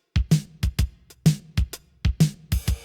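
A dry drum kit pattern without reverb, punchy kick and snare hits in a steady groove, short and tight with no lingering tail, ending on a cymbal crash.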